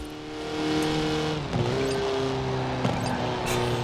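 Car driving on asphalt in the video game Forza Horizon 4, a steady close engine drone that shifts pitch a couple of times as the driver changes gears or speed.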